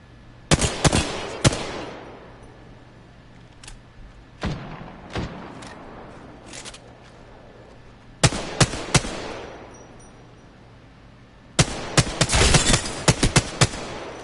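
Bursts of gunfire in the Apex Legends battle royale game, arriving in loud, clustered volleys separated by scattered single shots and quieter stretches.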